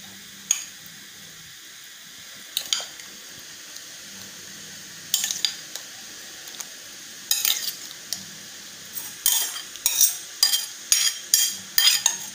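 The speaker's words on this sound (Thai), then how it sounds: "อันนี้จะก็จะเอาทัพพีนะคะ บี้ให้เนื้อปลามันแตกเป็นชิ้นเล็กๆนะคะ" A ladle scrapes and presses canned fish against the inside of a pot, giving a run of sharp metallic clinks and scrapes that start sparse and grow into quick, close clusters toward the end.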